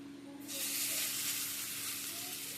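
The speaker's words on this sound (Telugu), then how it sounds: "నూనె వేడెక్కింది, ఇప్పుడు ఇవి వేసుకుంటాము." Food dropped into hot oil erupts into a sudden, bright sizzle that holds steady and close for the rest of the moment, with a low background hum underneath.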